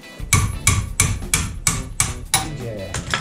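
Hammer blows on a car's front suspension part during a shock absorber and control arm pin replacement on a Seat, about eight sharp metallic strikes in a steady rhythm, loud and close.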